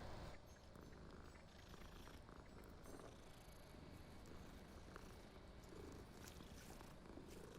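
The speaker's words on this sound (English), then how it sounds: "Another cat." A cat purrs steadily in the video game Hogwarts Legacy, a soft, low, continuous rumbling under faint game background sound, with no talk over it.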